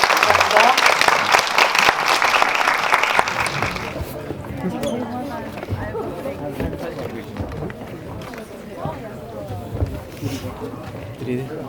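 Audience applause fills the first four seconds at a film Q&A screening at Megabox COEX in Seoul for the movie Intimate Strangers, loud and dense, then fades into crowd murmur and chatter.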